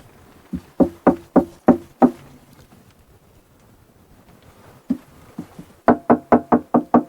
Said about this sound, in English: I'm gonna take the clamps off and hopefully the glue worked